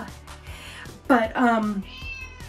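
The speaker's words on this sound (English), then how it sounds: "she just meowed" A cat gives a clear, drawn-out meow nearby, rising then falling, amid quiet room noise.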